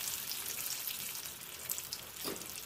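Pastel pastries frying in hot oil, a steady close hiss and crackle of sizzling that runs continuously throughout without any talking.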